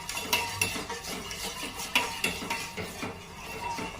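A spoon stirs a sugar and agar powder mixture in a pot while making carrot, beetroot and coconut jelly, giving a steady scraping swirl broken by light metallic clinks against the pot's side.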